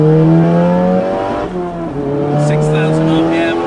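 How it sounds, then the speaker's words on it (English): Stage 3 VW Polo GTI fitted with an IS20 turbo pulls hard in second gear from about 2,500 RPM, its engine note rising steadily with a brief dip mid-pull, loud and close, with turbo whistle and voices talking over it. "Second gear, let's just see how the turbo comes in."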